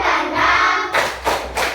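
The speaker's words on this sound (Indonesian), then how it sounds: "Ibu mau suruh dulu tepuk semangat" A school class claps together in quick rhythmic bursts, a run of dense clapping followed by three sharp, evenly spaced claps.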